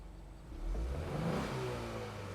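A 2026 Ford Mustang EcoBoost four-cylinder engine with its exhaust in quiet mode gives a low, muted hum that swells after a moment and holds as a steady drone, with no talking.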